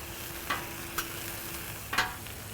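A thin steak cooks gently on a griddle with a quiet, even sizzle, punctuated by a few sharp light taps and scrapes, with no talking.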